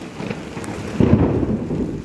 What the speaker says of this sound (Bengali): খুব বৃষ্টি হচ্ছে, আমাকে নাও। মেঘ ডাকছে, মেঘ ডাকছে